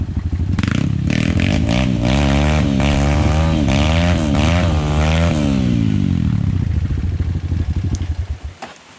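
A motorcycle engine revs hard and wavers on a steep trail climb. It is loud and close, rises and falls in pitch for several seconds, then drops off near the end.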